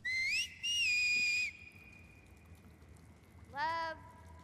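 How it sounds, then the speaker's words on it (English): Seraphite whistle from the video game The Last of Us Part II: a shrill, warbling two-note whistle call up front, then a second rising-and-falling whistle near the end over a quiet background. "Don't use the Seraphite's whistle."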